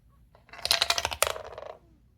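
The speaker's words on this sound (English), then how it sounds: "1 dice rolling." A single die tumbling across a table during a tabletop board game, a quick rattling series of clicks and bounces lasting about a second before settling, close and clear with no talking.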